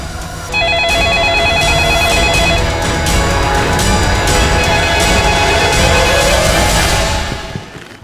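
A telephone ringing at a police station in a crime drama, a loud steady electronic ring repeating for several seconds with music underneath, then fading out.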